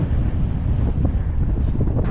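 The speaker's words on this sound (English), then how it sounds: "The wind is so strong." Strong wind roars and buffets against the microphone during a bike ride, a loud, constant rumbling blast with no pauses and no voices over it.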